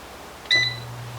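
One sharp electronic beep rings from a cooking appliance as its buttons are pressed and it starts, followed by the low steady hum of the machine beginning to run, heard close in a quiet kitchen.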